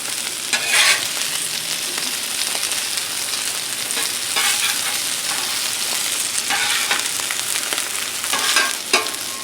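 Diced green tomatoes fry on a Blackstone griddle just after being turned, a loud, continuous sizzle with occasional scraping strokes of a spatula, close up and without talk.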